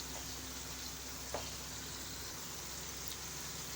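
Spices for chana dal palak, including ground coriander, red chilli powder and crushed red chilli, fry quietly in a pan with a soft, even sizzle, faint and steady, with no voices.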